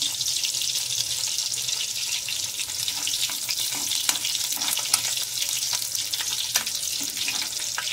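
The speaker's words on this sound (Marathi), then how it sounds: "तेलामध्ये आपण आहे ना लसूण टाकून घेऊया। लसूण चांगली फ्राय करून घ्यायची।" Garlic frying in hot oil in a pan for methi bhaji, a steady, close sizzle with a dense hiss and scattered pops and crackles throughout, with no talking.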